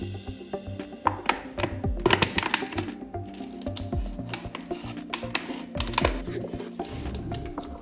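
An empty plastic soda bottle being cut into a cylinder, giving a close, crackly run of snips and clicks that comes in irregular bursts throughout.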